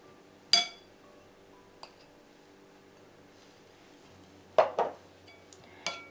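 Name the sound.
adding paneer chunks to the marinade in a glass bowl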